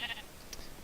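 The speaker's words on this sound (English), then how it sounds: "we have a pink sheep here" Pink sheep in the Minecraft video game, with a short, thin bleat near the start and a faint second call a moment later, quiet and alone with no talking.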